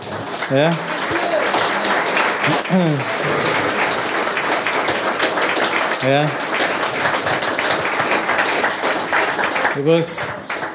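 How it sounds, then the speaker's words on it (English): Sustained applause from a conference audience at a closing session, dense clapping throughout, with a few brief voices rising above it. "so maybe we may clap hands for her"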